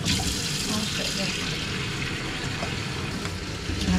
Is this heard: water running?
yes